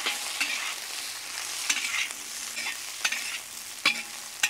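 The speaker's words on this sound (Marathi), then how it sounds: "हिरवी मिरची आपण आता हिरवी मिरची पण व्यवस्थित परतून घेऊ 2 ते 3 मिनिटं।" Ginger, garlic and green chillies sautéed in a pan for Vidarbha-style kharda chicken, a close, steady sizzle punctuated by several sharp spatula scrapes at irregular intervals, no voices.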